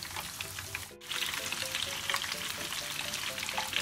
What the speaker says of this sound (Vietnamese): sau khi chiên thịt khoảng tầm 5 phút nó sẽ vàng như này các bạn nhé